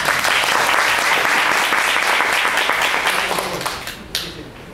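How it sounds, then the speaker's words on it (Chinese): Loud, sustained applause from an audience at a Rotary club meeting during a district governor's official visit, steady for several seconds before tapering off. "咱搁再次来个那个掌声来欢迎咱总干甲团队哈"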